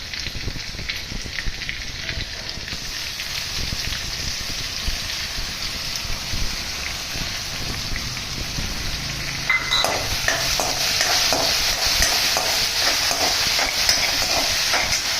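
Garlic, chili and mint paste sizzles steadily in hot oil in a pan, a continuous close frying hiss with faint stirring scrapes that grows a little louder and busier partway through.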